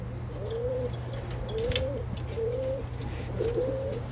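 Birmingham Roller pigeons cooing in a loft, four soft rolling coos in a steady rhythm, close and clear over a low hum of background noise.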